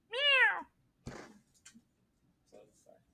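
During a calculus lesson, a teacher imitates a cat with one loud, drawn-out meow, followed by a few brief, quieter vocal sounds and small clicks.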